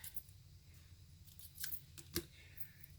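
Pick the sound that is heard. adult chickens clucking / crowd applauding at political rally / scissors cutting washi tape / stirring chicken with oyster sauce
scissors cutting washi tape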